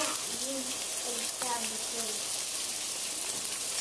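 A trout fillet sears in a pan with a steady, loud hiss of frying that runs the whole time, while someone speaks over it.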